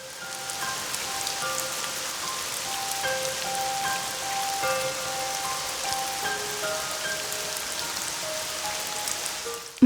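Rain falling steadily as a drama sound effect, a continuous even wash of patter on surfaces with scattered drips, alone and fairly loud throughout.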